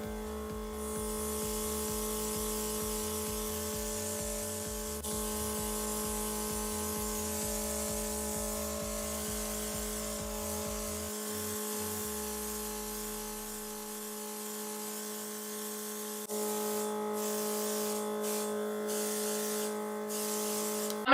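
An airbrush sprays foundation onto a tissue, a steady hissing spray with a low pulsing compressor motor underneath, continuous and fairly close, with a brief change in tone partway through.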